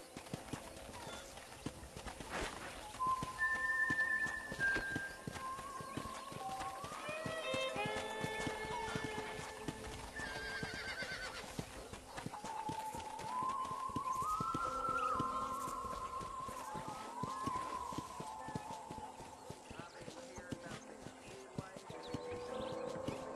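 A horse's hooves clip-clop at a steady rhythmic walk around a ranch. Music plays over the hoofbeats and the horse whinnies briefly.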